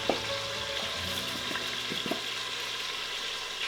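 Seasoned ribs sear in an Instant Pot pressure cooker with a steady, close sizzling hiss, broken by a few light clinks and taps.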